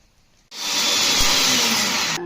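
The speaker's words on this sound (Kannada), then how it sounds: "ಮಿಕ್ಸರಿ ಪೌಡ್ರ್ ಮಾಡ್ಕೊಳ್ಬೇಕು" An electric kitchen mixer grinder whirs at high speed for under two seconds, grinding cooled roasted ingredients into powder, a loud close steady roar that starts abruptly and cuts off just as suddenly.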